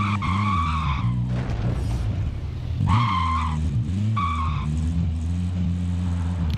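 A car in the Call of Duty: Modern Warfare video game drives with a loud engine drone, and its tires squeal in repeated skids that rise and fall across several bursts.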